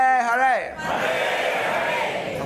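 A crowd at a temple arati chants back loudly after a single voice calls out a sustained sung phrase, leaving a broad, roaring wash of many voices.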